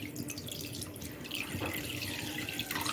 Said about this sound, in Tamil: இப்போ வந்து நல்லா தண்ணி ஊற்றிக்கலாம்.